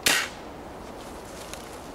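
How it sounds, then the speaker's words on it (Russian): A single sharp crack from a Weihrauch HW98 break-barrel air rifle with a weakened spring fires close by, then fades quickly into quiet room tone. "Отводим, производим выстрел."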